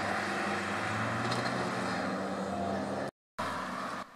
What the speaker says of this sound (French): Encore une 911 GT3 suivie d'une Caterham.